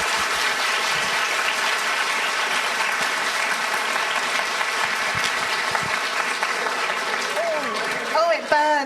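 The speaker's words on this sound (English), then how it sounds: "can we give one more round of applause for Ruth Ware?" An audience at an evening author event with novelist Ruth Ware applauds in a sustained, dense round of clapping, with murmured voices under it and a brief chirp near the end.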